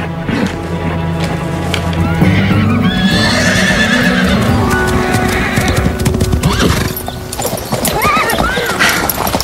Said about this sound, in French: Je crois que je vais la mettre dans le paddock pour qu'elle galope un peu.